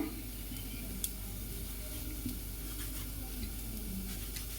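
Chopped tomatoes go into a pan of frying onions and curry leaves for a ridge gourd and chana dal curry, giving a soft, steady sizzle with faint scraping, fairly quiet and without talk.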